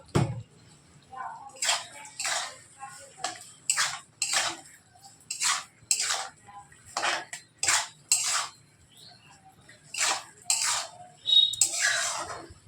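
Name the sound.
lid being placed on pot of mango chutney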